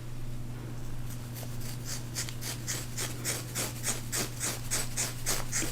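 Scissors snip through the layers of a curly wig in a quick, even run of crisp cuts that grows slightly louder and denser, with no talking.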